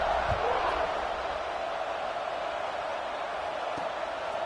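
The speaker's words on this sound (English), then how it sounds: "this crowd is buzzing after that last score" Stadium crowd at a college football game involving the Gators, buzzing as a steady, dense wash of many voices just before a kickoff, continuous and fairly loud without a clear single voice on top.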